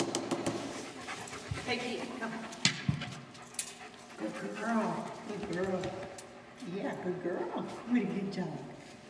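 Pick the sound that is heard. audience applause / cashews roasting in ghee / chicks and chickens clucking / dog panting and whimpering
dog panting and whimpering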